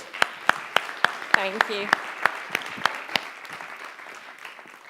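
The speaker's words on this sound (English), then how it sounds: "Let's give her a big round of applause." An audience at a festival session on workplace stress and mindfulness claps to welcome a speaker onstage: steady, moderately loud applause with sharp individual claps standing out, and a brief voice speaks over it.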